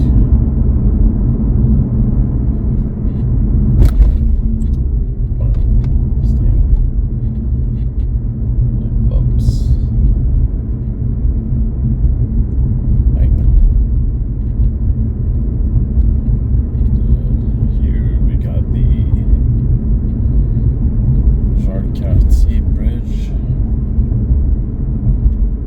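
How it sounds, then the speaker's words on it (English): A car rolls over a rough, bumpy road in Montreal with its suspension in soft mode, a loud continuous low rumble of road and tire noise with occasional thumps and rattles, while someone speaks over it. "Suspension is in soft mode, but still, it's really bumpy."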